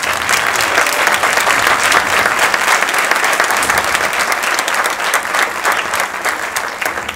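Applause for comedian Jaime Marrero at a 'Si te ríes pierdes' comedy show at César Manrique Cultural: loud, dense clapping from a full audience that holds steady throughout.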